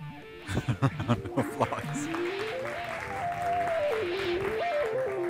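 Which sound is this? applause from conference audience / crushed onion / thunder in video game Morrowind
applause from conference audience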